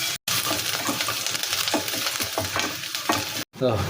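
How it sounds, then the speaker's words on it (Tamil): Onions fry in oil while being stirred toward golden brown, a dense steady sizzle layered with rhythmic spatula scrapes, loud and near, briefly dropping out twice, with no speech. "வெங்காயம் வந்துட்டு நல்லா கோல்டன் ப்ரௌன் ஆகண வரைக்கும் நமக்கு இது மிக்ஸ் பண்ணிகிட்டே இருக்கணும்"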